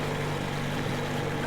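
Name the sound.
vehicle engine running in the video game Metro Exodus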